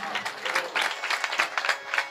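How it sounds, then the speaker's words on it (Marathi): An audience at a Marathi kirtan gathering claps in a brief, fairly close burst of uneven, overlapping hand claps. "त्यामुळे या वर्गासाठी टाळ्या वाजवा तुम्ही."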